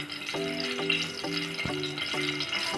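Oil heating in a hot kadai for chatpata bhindi, a steady close crackling sizzle with faint intermittent tonal clinks throughout.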